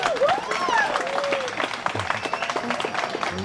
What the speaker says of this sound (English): you can clap, guys.